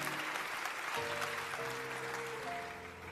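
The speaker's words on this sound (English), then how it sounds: "Give him a round of applause." An audience applauds to welcome the former President of Poland onto a stage, a soft, steady wash of clapping throughout, fairly quiet and distant.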